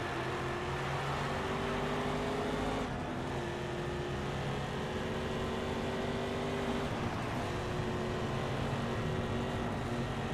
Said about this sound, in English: we're racing on the streets of Milan